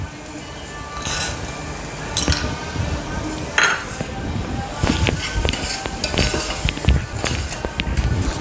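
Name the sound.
stirring peas masala in a pan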